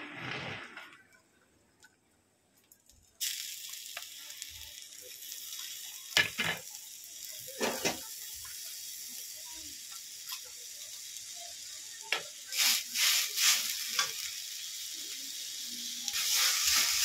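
A coconut and cane-jaggery filling sizzles in a hot wok, with steady frying hiss and occasional scraping stir strokes, close and moderately loud, no talking.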